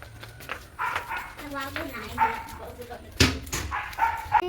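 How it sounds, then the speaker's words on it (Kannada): A dog barks a few times at a distance, the sharp yelps partly buried beneath steady conversation and outdoor background noise. "ನಾಯಿ ಯಾವ್ದೋ ನಾಯಿ ಬಗಲ್ತಾ ಐತೆ"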